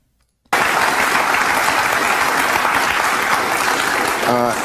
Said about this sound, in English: the audience applauds Byron Donalds